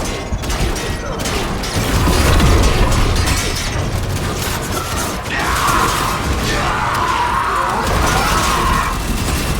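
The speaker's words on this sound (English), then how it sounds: "Extractor deploying." Machinery from an extractor deploying in the video game Warframe clanks and rattles with mechanical crunches and bursts, followed by a sustained whirring hum in the second half, all loud and dense.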